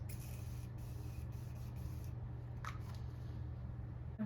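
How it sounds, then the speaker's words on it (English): Morphe continuous setting mist sprayed onto a face at close range, heard as several soft, short hissing bursts in quick succession over a low steady background hum. "This is the Morphe continuous setting mist. So I'm going to set my face."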